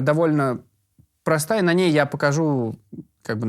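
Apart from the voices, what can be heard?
No distinct noise like a dog, phone or traffic.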